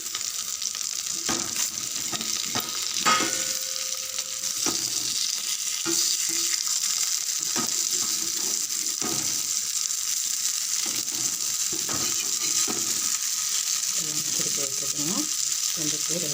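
Stingray fish (thirukkai meen) frying in a pan, a steady loud sizzle with occasional scraping and clinks as pieces are turned, continuous and close.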